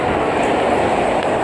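A New York subway J train near Chambers Street, a loud, continuous close rumble of rolling wheels and car noise that holds steady throughout with no talking.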